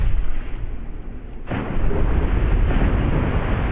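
Heavenly Lightning spell cast in Dark Souls 2: a loud crackling electric blast that swells into a heavy rumbling roar, filling the short moment with dense noise.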